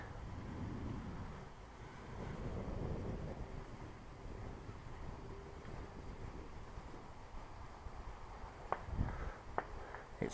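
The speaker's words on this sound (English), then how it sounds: "there's a bit of wind again blowing in my face" Wind gusts blow across an open field where an RC thermal glider is being flown, a soft buffeting rumble against the microphone that rises and falls, with a few faint knocks near the end.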